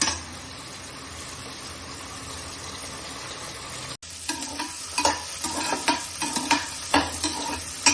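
Small shallots sauté in a pan for South Indian sambar, a soft steady sizzle that breaks off briefly and then comes back with louder crackles and the scrape of stirring.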